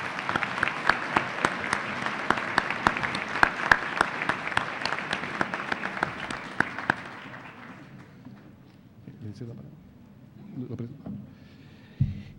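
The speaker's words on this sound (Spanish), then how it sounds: "quiero también pedirles que por favor le brindemos un fuerte aplauso" Audience applause fills an auditorium at an international constitutional law congress, dense and loud for about seven seconds before fading, followed by quieter talk and faint room noise.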